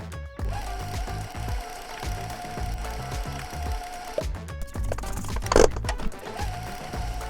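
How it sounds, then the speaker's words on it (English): A stand mixer whirs steadily as it creams butter with light brown and granulated sugar, a close, continuous motor hum with rhythmic mechanical ticking and a brief louder clatter near the end. "I'm gonna turn my mixer back on for about 30 to 45 seconds"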